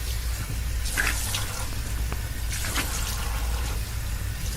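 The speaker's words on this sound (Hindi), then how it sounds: "अंदर पहुंचकर अच्छी तरह से मुंह पर पानी छिड़का।" Water splashed onto a face from a tap in a cramped train toilet, heard as two short splashy bursts over a steady low rumble of the moving train, no voices.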